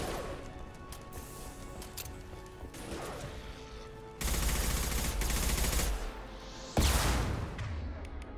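Weapons fire in the Mass Effect 2 video game: scattered mechanical clicks and hits build to a loud sustained volley, a brief lull, then another heavy burst near the end.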